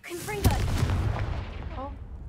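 In Hogwarts Legacy, a Confringo explosive spell goes off as one sharp boom, then a rolling rumble over steady game noise. A voice speaks over it.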